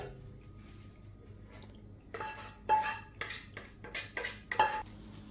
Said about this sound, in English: I'm going to grate on my cheese all over.